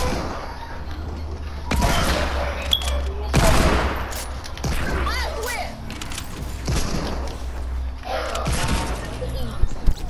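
Desert Eagle gunfire in Fortnite, several sharp bursts of shots spaced through the clip over a steady low game rumble, with a young player talking in the background.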